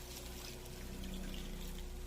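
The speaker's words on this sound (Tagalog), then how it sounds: "Maglagay tayo ng tubig" Water is poured into a cooking pot for Tagalog beef steak, a faint, quiet splashing trickle heard alone at a low level.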